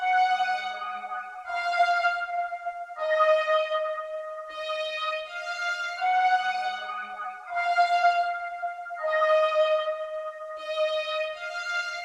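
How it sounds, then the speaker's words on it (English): Dark vintage trap sample built from a synth one-shot melody with a reversed, liquid texture swelling underneath, playing as repeating sustained chord phrases with a steady rhythm, alone without any voices. "Like you can hear that liquid reverse dark texture in the background."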